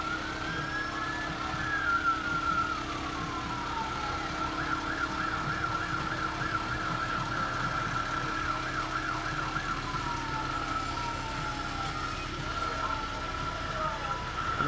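A fire rescue vehicle's siren in a town fair parade, wailing in rising and falling sweeps over crowd noise and engine rumble, moderately near and continuous, with people talking in the background.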